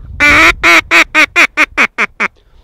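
A single-reed duck call gives a loud, piercing run of about nine quacks. The notes start long and get shorter and quicker as they go, and the call is close and heard alone.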